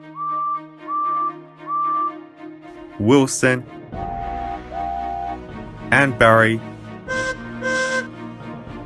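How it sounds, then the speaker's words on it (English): Toy trains in a children's train story blow their whistles: a few short steady tones early on, then louder rising two-note whistles and longer held tones, with talk in between. "blew their whistles"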